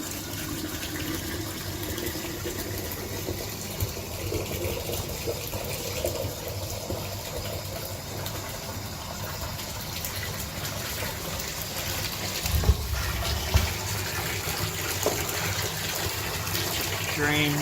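Water rushes steadily through a wet tumbler drum rinsing brass cartridge cases, a continuous gushing wash with a few brief louder splashes and clunks near the end.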